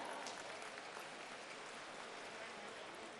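A crowd applauds to welcome the Chief Minister at a foundation-stone ceremony for health centres in Panna, with faint, distant, steady clapping lasting a few seconds.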